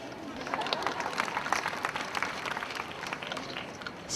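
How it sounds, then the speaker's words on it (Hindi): An audience claps at a school annual day, dense steady applause from a crowd, moderately loud and filling the whole stretch before swelling at the end. "बजाइए, जोरदार तालियां बजाइए"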